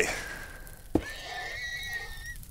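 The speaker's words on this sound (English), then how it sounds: "What the heck? What was that horse?" A horse in the Minecraft game Blitz Survival Games gives a single clear whinny, rising and then holding a long wavering tone over steady background game noise.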